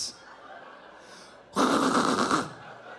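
A voice mimics an old car engine cranking, likened to a 1984 Oldsmobile Cutlass Ciera, as a loud, rough, rasping burst of about one second following a quieter breathy lead-in.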